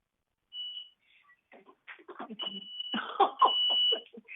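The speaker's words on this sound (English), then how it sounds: "I'm sure you can hear my faulty alarm that I can't turn off." A faulty alarm that won't switch off sounds a steady, shrill electronic beep that keeps repeating through the clip. Several voices talk over it in the background.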